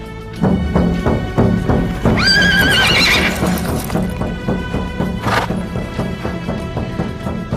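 A war horse gives a loud, shrill whinny amid rhythmic hoof clip-clops and thuds, with a second shorter neigh later, close and prominent.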